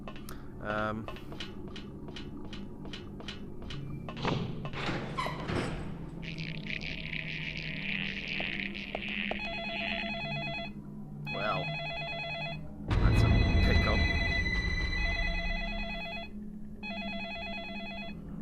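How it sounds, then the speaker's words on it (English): A telephone rings in the video game Deadly Premonition Origins, with repeated electronic bell bursts in a regular pattern amid game sounds and clanks. Someone talks briefly over part of it. "There's a creepy phone ringing."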